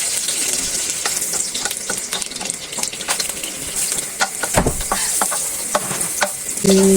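Oil sautéing in a pan while cooking pork hamonado, a continuous close sizzle broken by clinks and scraping of a utensil against the pan.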